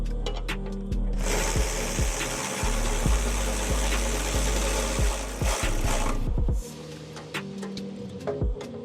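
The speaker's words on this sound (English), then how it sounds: "Go ahead, finish bolting this up." A 10mm wrench works bolts on a K&N cold air intake in a Subaru BRZ engine bay, a close run of regular sharp metallic clicks with a low background hum, no talk.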